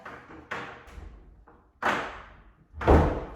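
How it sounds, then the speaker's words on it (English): A car door is shut after a resistance band anchor is slid over its top, giving several muffled thuds and knocks, the last one loudest and closest, with quiet handling noise between. "close your door"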